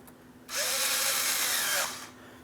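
An 8mm power driver tightens a hose clamp on the thermostat housing of a 2003-2007 Cadillac CTS 3.6L V6. A single close, steady whirring burst lasts just over a second, with quiet before and after.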